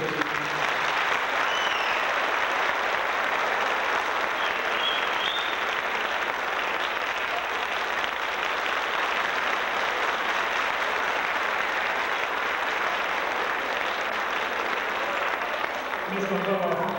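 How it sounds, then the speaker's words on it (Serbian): Sustained, dense applause from a concert audience at a 1982 performance in Chicago, a steady roar of clapping filling the whole stretch with no break. "da vam zahvalim za ovaj srdečan topo aplauz"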